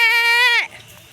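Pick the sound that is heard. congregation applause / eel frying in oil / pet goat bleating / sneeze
pet goat bleating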